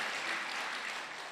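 A church congregation at a Sunday service claps for a young man back from military service, a soft, fairly distant patter of many hands that fades slightly toward the end.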